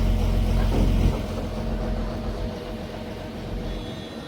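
A boat on the Kuttanad backwaters turns, its engine a loud, steady low rumble with wash and water noise that eases slightly after the first second.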